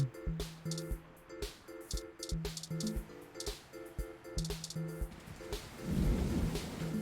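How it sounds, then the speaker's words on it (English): Weather ambience of rain and thunder from the game 2064: Read Only Memories, with soft patter and a low rumble swelling near the end, heard beneath a looping tonal music pattern. "A vibrant mix of weather sounds, natural ambience fills your ears."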